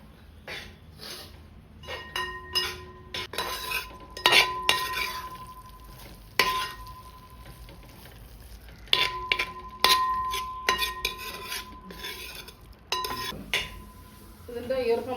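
A spoon stirs conch meat stir fry in a pan, Kerala style, producing repeated scraping and clinking strokes against the metal in irregular bursts, close and clear, under a faint background sizzle.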